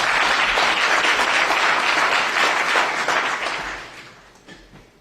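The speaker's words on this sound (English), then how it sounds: "Let's give him a round of applause." A town hall audience in a church gives a round of applause for the meeting's organizer, loud continuous clapping that holds steady and then fades out over the last second or two.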